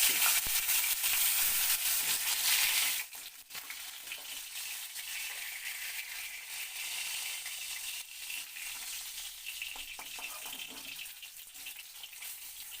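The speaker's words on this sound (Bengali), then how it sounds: "ঠিক একই রকমভাবে আমি দ্বিতীয় ব্যাচটাকে ভেজে নিচ্ছি" Second batch of foli fish pieces frying in hot oil in a pan for a thin fish curry: a steady, loud sizzling hiss, strongest for the first three seconds, then settling to a slightly softer continuous crackle, with no talking.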